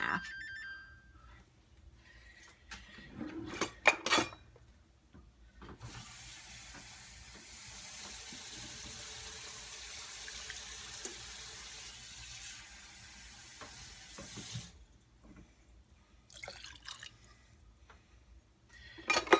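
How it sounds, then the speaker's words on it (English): Water runs into a cooking pot on an electric stove for soup, a steady hissing pour lasting several seconds between quieter kitchen clatter and faint knocks. "And then I'm going to add 2 cups of water."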